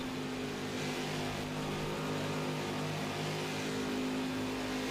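Race car engine working on and off the throttle during a Las Vegas race, a steady mid-pitched drone that swells and eases without break, heard at a distance with no talk.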